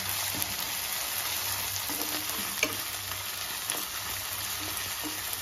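Ginger garlic paste sizzles and fries in a pan for chicken sherva, a constant close crackle broken by a few scraping stirs, with no talking.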